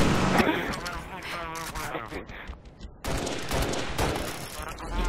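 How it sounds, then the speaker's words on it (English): Rapid bursts of video game gunfire and blasts around a warthog vehicle in a Halo-style match, dense and loud, with people talking excitedly over the shooting. "Oh, I'm getting shotgunned in a warthog."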